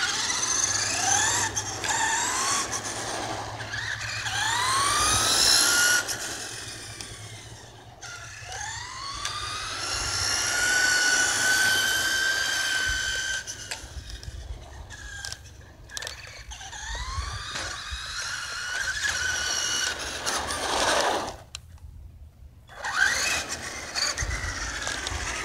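A Traxxas Rustler RC car with new parts on a full run: a high electric motor whine that rises and falls repeatedly with throttle, steady and fairly close, broken by a brief drop near the end.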